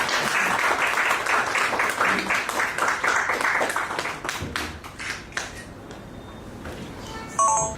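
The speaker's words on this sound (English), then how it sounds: "give a big round of applause" A conference audience applauds, a dense burst of clapping that thins out into a few scattered claps, then a short electronic beep sounds near the end.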